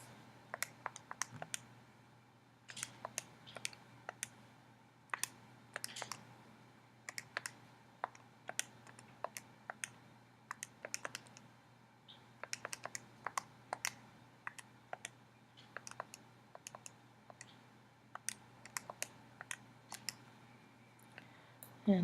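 Buttons on a calculator being pressed one after another to work out a math problem, quick faint plastic clicks in short uneven bursts with brief pauses, close by in a quiet room.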